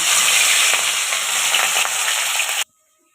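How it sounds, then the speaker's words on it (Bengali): Katla fish pieces fry loudly in hot oil, a dense, even crackling sizzle close by that cuts off abruptly near the end. "তেলটা ভালো করে গরম হয়ে গেছে এবার এক এক করে মাছগুলো ছেড়ে দিচ্ছি"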